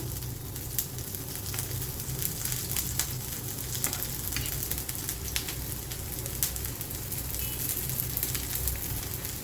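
Sabudana and potato appe fry in oil in an appe pan, a steady close sizzle with scattered crackles and pops continuing throughout, no talking.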